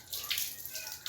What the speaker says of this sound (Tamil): நம்மளோட கோகோனட் மில்க்கு நல்லா மேலே டிசைனுக்காக அழகாக ஊற்றிடலாம்.